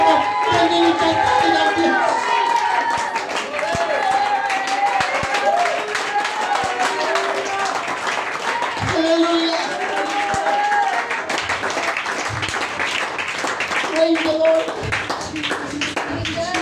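A church congregation claps during a preaching service, steady scattered applause running throughout under a preacher's voice.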